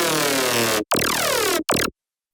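A dubstep wavetable synth bass with unison pushed to the maximum plays three loud, thick, buzzing notes, the first two long and swept and the last short, then cuts to silence.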